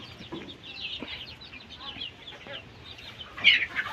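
Fayoumi and Tiger breed chickens, chicks that have recovered from early illness, cluck and chirp in a busy, overlapping chorus at moderate volume, with a slightly louder burst of calls near the end.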